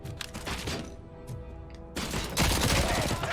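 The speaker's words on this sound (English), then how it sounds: "Who else is shooting at me?" Rapid bursts of automatic gunfire and heavy shots crash through a RoboCop: Rogue City shootout, dense and loud, with a brief quieter lull before the barrage resumes even harder.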